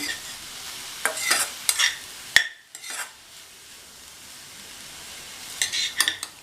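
Chow chow (chayote) stir-fry being stirred in a pan, with spoon scrapes and clinks in irregular bursts over a soft steady sizzle, close and fairly loud, no voices.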